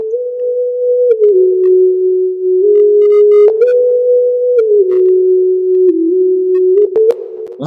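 A smooth, pure sine-wave synth lead glides through a slow, stepwise melody in a pluggnb beat, holding each note steadily and playing alone with no other instruments.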